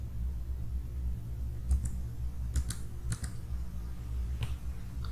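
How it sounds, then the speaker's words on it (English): Light clicks of typing on a computer keyboard, a few scattered short bursts of keystrokes over a low steady hum, fairly faint and close. "So let's go ahead and type in from NLTK.corpus."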